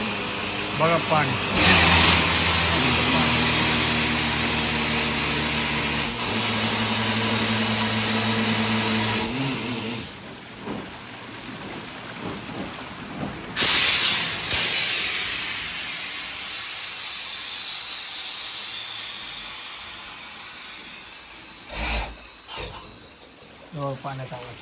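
A borewell drilling rig engine runs loud and steady at close range, idling and revving for a 150-foot bore, with a broadband hissing rush of water gushing out and people talking intermittently.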